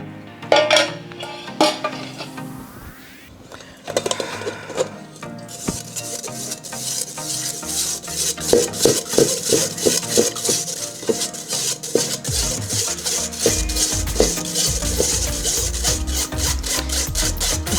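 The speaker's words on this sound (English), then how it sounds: "Now the custard is cooled, so I'm going to strain it." Eggnog custard, cooled, is worked through a strainer with scraping, rubbing and clinking of utensil against metal and bowl, irregular and close, continuing steadily with no talk.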